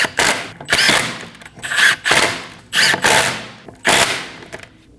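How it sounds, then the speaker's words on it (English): Pneumatic impact gun snugging down lug studs on a 2012-2022 Volkswagen Passat rear hub, five loud, close rattling bursts of about half a second each, separated by short pauses, with no talking. "install the rest of the lug studs, snug them down with a gun"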